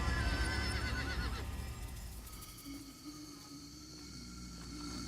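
A horse in the Sacred: Underworld video game whinnies loudly, its neigh fading over several seconds, with faint hoof clip-clops and a steady game ambience underneath.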